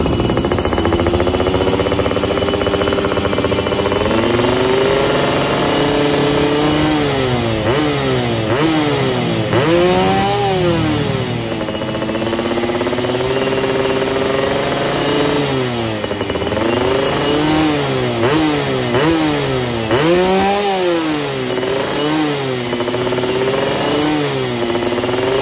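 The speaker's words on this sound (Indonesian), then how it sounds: "dari pinggir jalan kita lakukan blyer ya guys ya di sini dengan knalpot NXL standar racing" A Yamaha F1ZR two-stroke motorcycle with an NXL racing exhaust, revved at the roadside: loud, continuous, rising and falling blips and sustained revs, harsh and crackly, close by with no talk.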